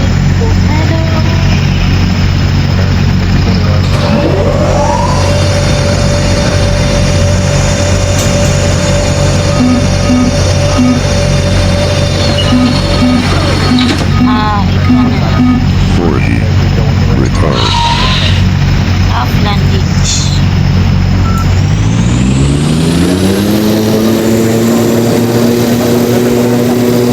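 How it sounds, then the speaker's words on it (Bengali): An airplane lands in the video game Airline Commander. A steady, loud engine drone with a droning tonal hum fills the whole stretch, then swells and climbs in pitch near the end. "তো আমরা ফাইনালি ল্যান্ড করলাম"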